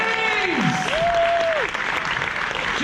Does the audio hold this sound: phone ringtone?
no